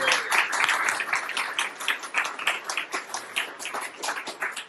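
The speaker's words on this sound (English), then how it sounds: "We just have a bit of a round of applause for John." A meetup audience gives John a round of applause, clearly separated claps from a modest group in an uneven rhythm that gradually thins out.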